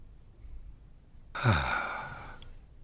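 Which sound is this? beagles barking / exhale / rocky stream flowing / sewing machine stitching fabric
exhale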